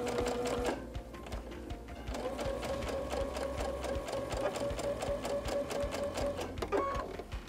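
A sewing machine stitches quilt pieces with a fast, steady mechanical chatter and rapid needle ticks, running continuously and close with only small changes in speed.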